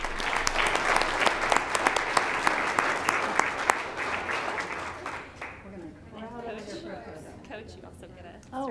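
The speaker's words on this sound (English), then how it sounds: "So an extra round of applause for all of those accomplishments." A school board meeting audience gives a dense round of applause that fades out after about five seconds, followed by a voice speaking in the quieter room.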